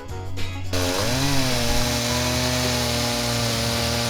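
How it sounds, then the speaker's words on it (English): A chainsaw clamped into an Alaska mill rips lengthwise through a green timber log to cut a slab, starting with a short idle burst and then holding a loud, steady high-revving whine under load. "All we need to do is slide the bar of our saw into the mill clamps, make sure the chain doesn't rub at all, tighten it down, set our depth, and go to town."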